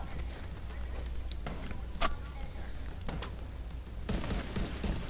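A light machine gun fires in the video game The Division 2 in repeated bursts of sharp shots over a steady background of game ambience, fairly loud and near.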